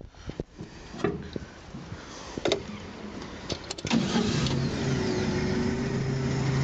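A Lesnik-Lite all-terrain vehicle starts off with a few clunks and clicks, then its engine settles into a steady running drone that grows louder and carries on to the end.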